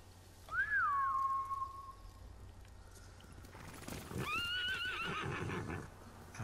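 Samurai warhorses in Ghost of Tsushima give a loud rising-and-falling whinny, followed a moment later by a second, higher neigh over a low ambient rumble.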